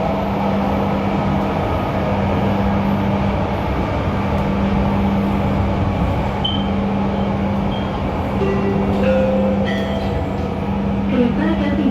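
A Jakarta train pulls toward Halim station, the transit stop for the Jakarta–Bandung high-speed rail. From inside the carriage comes a loud, steady rumble with a continuous low hum, and no one speaks.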